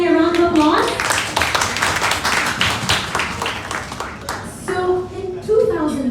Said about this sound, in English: Everybody, a round of applause.